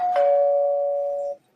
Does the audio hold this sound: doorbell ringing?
yes